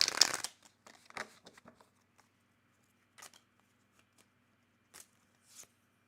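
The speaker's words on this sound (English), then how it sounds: "Give it a good shuffle here." A brief burst of tarot cards being shuffled, then quiet, soft taps and flicks of the cards being handled, close and gentle.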